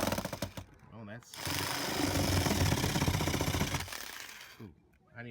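Power drill boring a pilot hole during a flush-mount LED flood light install on a Jeep Wrangler, a loud, steady grinding whir lasting a few seconds, framed by brief bursts of speech before and after.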